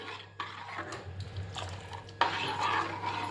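A few faint, close spoon scrapes and clinks of rice kheer being stirred in a pot, under a steady low hum, with quiet wet movement between strokes.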